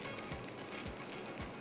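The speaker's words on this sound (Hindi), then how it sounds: "ये अब डायरेक्टली हम इसके ऊपर ही बना के रखते जाएंगे और ये आराम से फ्राई हो जाएंगे" Steady sizzle of chapli kababs frying in a pan of oil, quiet and even throughout, with faint soft knocks as patties are set down, no voices.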